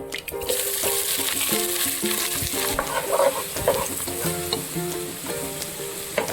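Chopped onion, tomato, green chillies, ginger and garlic frying in hot oil with popped mustard seeds for a Kerala crab roast, a loud steady sizzle with spoon stirring and scraping throughout, no voices.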